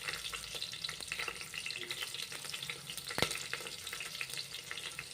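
Green chillies for ghee rice fry in hot ghee in a pan with a quiet, crackling sizzle and scattered pops, plus one sharp clink of a utensil.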